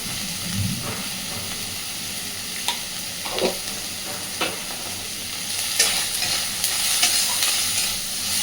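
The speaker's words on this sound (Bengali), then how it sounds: "পেঁয়াজ রসুন চিংড়ি মাছটা একটু ভাজা হয়ে আসবে" Onion, garlic and shrimp frying with salt and turmeric in a pan, a continuous sizzle and hiss with occasional stirring scrapes, growing a little louder toward the end, no voices.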